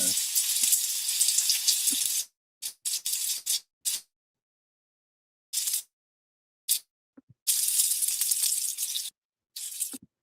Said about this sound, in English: why we want to sit here and just watch them frying?